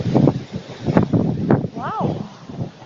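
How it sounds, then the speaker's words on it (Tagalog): Strong gusting wind during Typhoon Yolanda, blustering in waves against the microphone, with people talking over it close by. "ang lakas ng hangin."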